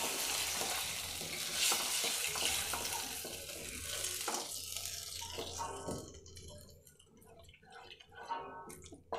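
A spoon stirs mango and neem flower pachadi in a pan on the stove with scraping and soft sizzling, loud at first and then turning sparser and quieter.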